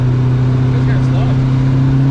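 Turbocharged SR20DET engine in a Datsun 510 under boost, a loud steady close engine drone with a faint rising whoosh from the wastegate on top, while people talk over it.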